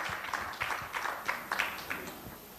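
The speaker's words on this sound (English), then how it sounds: "Can we have a big round of applause, ladies" A seminar audience applauds for a speaker's feisty voices: a moderate wash of clapping in uneven surges, fairly steady across the whole stretch with no voices on top.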